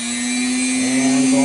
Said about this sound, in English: alright, here goes the Dremel.